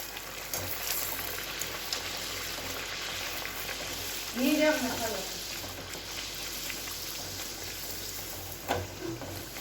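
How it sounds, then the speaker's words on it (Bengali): Pea-filled kachoris fry in hot oil, a dense continuous crackling sizzle lasting throughout, with a brief louder bubbling swell midway and a few utensil knocks. "এই যে কচুরিগুলো ভাজা হয়ে গেছে আমার"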